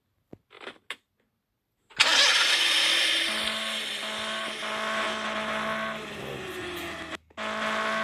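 A car engine starts up in a video game after a couple of brief clicks and a pause, then settles into a loud, steady idle hum that holds for several seconds, cutting out briefly near the end before resuming.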